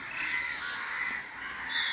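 Crows caw repeatedly around a community health centre hospital in Padampur, harsh calls rising and falling over steady background noise, fairly distant and with no talking.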